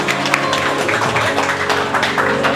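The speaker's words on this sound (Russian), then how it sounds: "Тогда еще раз, пожалуйста, аплодисменты." Wedding guests applauding, steady dense clapping with background music and crowd murmur running underneath at a fairly loud level.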